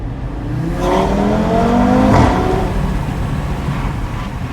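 An Audi TT RS engine revs hard under acceleration, its loud growl rising and shifting in pitch, continuous and close.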